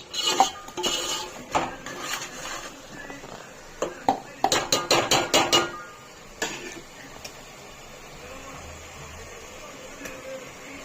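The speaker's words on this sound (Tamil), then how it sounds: "இப்போ நம்ம வந்து கறியை வந்து ஆட் பண்ணுறோம்." Meat goes into a pot of masala-fried yogurt for Ambur chicken biryani, with sharp metallic clanks and clatters of utensils against the pot in scattered bursts, including a quick flurry midway, then quieter.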